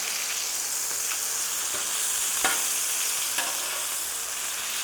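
Smash burgers of ground brisket fry on a Vevor griddle with a loud, steady, even sizzle, near and unbroken, marked by a couple of faint ticks.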